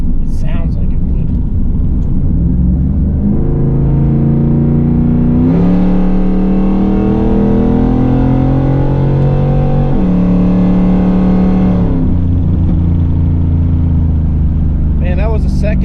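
A Chevrolet Camaro Z28 engine revs hard and climbs through the gears, with a clear second-to-third shift near 6,000 rpm. The loud, close exhaust rises in pitch, drops at each shift, then climbs again.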